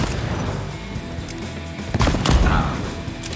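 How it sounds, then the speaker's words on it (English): Gunfire from a hand cannon in the Deathloop video game cracks out in a few heavy, close shots over dense, continuous game noise and music. "it's quite the hand cannon."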